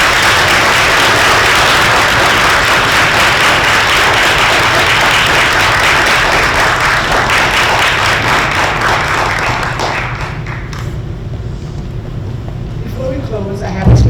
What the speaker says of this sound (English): If everyone would please join me in a round of applause for our new Phi Theta Kappa members